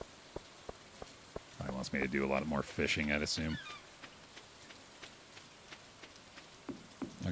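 Rain falling in the video game Stardew Valley, a soft steady patter with scattered drop ticks throughout, while someone talks over it briefly in the middle.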